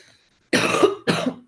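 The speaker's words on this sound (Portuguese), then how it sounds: "eu peço desculpas pela tosse" Two short, harsh coughs from one person, close and loud, separated by a brief pause and followed by silence.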